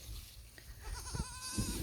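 A young goat bleats faintly near its mother outdoors among other livestock noise, with a soft wavering cry rising toward the end over rustling and low rumble.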